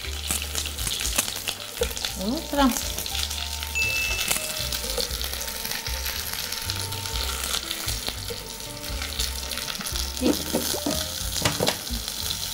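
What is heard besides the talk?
bread frying in melted fat in a pan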